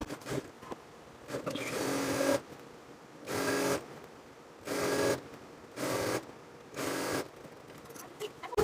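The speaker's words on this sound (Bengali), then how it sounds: "তো আমি সবার প্রথমে সাইডগুলো সেলাই করে নেব।" A sewing machine stitching the side seams of ladies' pants runs in short bursts of whirring, about five or six stitching runs separated by quiet pauses, close and fairly steady.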